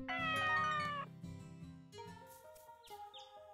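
A cat in Story of Seasons: Pioneers of Olive Town gives a long, clear, rising-and-falling meow, followed by softer game chimes and tones. The sound is close and alone, with no talk over it.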